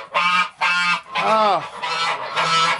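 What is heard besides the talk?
geese honking loudly on a farm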